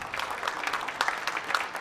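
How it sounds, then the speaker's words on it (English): Applause from an audience at a Muscatine city council meeting, a steady patter of many hands clapping at a moderate distance, fairly soft, with no speech. "A round of applause showing support for Diana Broderson as she approaches what could be her last city council meeting as Muscatine mayor"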